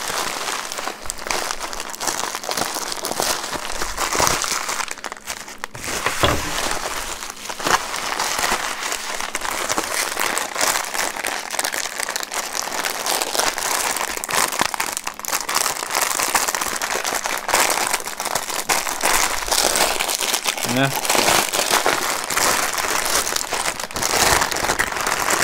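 Plastic bag and bubble-wrap packaging from a toy parcel are pulled open and unwrapped, giving a continuous close crinkling and rustling with scattered sharp crackles and pops throughout.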